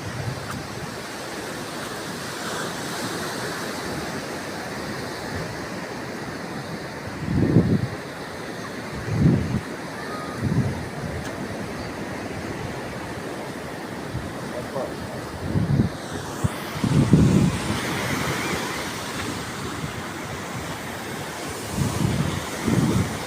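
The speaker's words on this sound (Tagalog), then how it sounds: "Sayang nga lang po at malalaki ang alon." Large ocean waves roll in on a beach at Baler, a steady wash of surf and wind with several heavier surges breaking at intervals, no one speaking.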